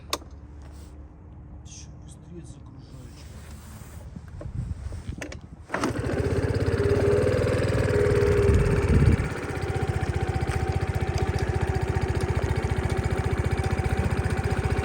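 A Suzuki Address V50G 50cc scooter from Japan starts up and settles into a quiet, steady idle close by. A voice speaks over the start and the running engine hums on evenly alone.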